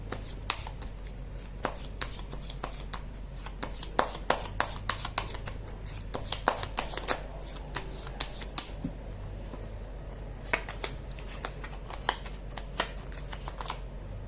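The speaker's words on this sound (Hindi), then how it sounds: "कर लेती हूँ कार्ड की शफलिंग।" Tarot cards being shuffled by hand, a steady run of crisp riffling snaps and soft slides, close and clear, continuing alone over a low background hum with no talking.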